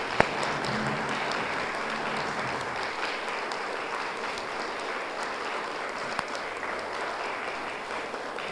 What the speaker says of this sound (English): Could we please stand and give VCAM a round of applause